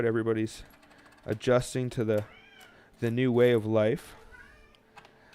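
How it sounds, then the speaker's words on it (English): An indoor cat meows in the background in several drawn-out, moaning calls, two clear bursts between stretches of a person talking, with faint mechanical clicking in the room. "I'm sorry if you hear my cat moaning in the background."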